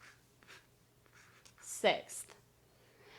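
A pen scratches out the fraction 1/6 by hand, with short scraping strokes and one louder stroke midway, close and clear in an otherwise quiet room.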